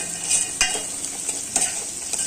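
Onion frying in a pan for sambar gives a steady sizzle with a few brief stirring scrapes of a spoon, close and without any voices.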